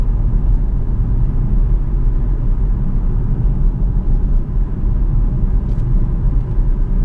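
A 2010 Jaguar XF 5.0 V8 S cruises on a motorway. A loud, constant low rumble of engine and road noise lasts throughout and is steady, with no voices.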